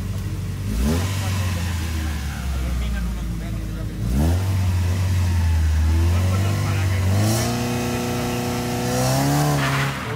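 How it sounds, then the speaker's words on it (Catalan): A Peugeot 306 rally car revs hard at the start of the Canes-Santigosa stage of the Rally de La Llana, with rising and falling engine pitch through two throttle bursts and a commentator talking over it. "Motor revolucionat i au, amunt!"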